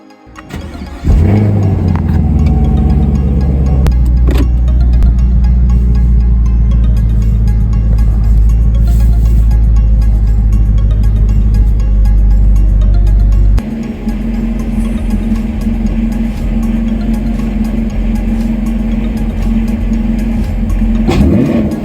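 A 2021 Chevrolet Camaro SS 1LE V8, set to track mode, fires up loudly in a garage and settles into a deep, steady rumble, then drops to a slightly lower idle note partway through, with a brief blip at the end.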